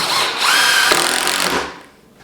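A power drill bores a pilot hole into wood for a skateboard nose blunt ledge, whining loud and steady for about a second and a half, then spinning down and fading out.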